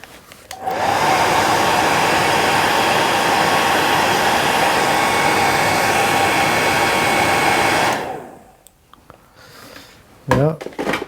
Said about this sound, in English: blowing it with the hairdryer will just put it in line